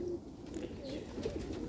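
Pet pigeons coo softly and briefly, a low throaty murmur set against quiet background noise.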